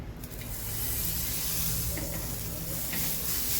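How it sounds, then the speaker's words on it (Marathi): Butter sizzling on a hot tawa griddle on a gas stove, a steady dense frying hiss that runs unbroken and fairly loud throughout, close up with no talking. "मी बटर लावून घेतली तव्याला"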